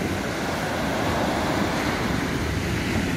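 Steady wash of sea surf breaking on a beach in Alanya, Turkey, a continuous broadband roar with some wind noise, no voices.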